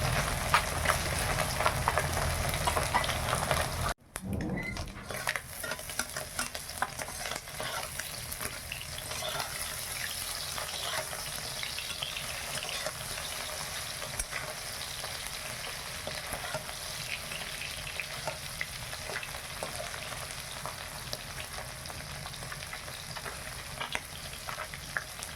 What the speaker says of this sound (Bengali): মাছগুলো খুব সুন্দর ভাজা হয়ে গেছে